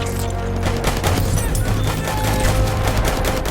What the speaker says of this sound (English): bullets ricocheting off of rock faces and explosions leaving your ears ringing as you charge into engagements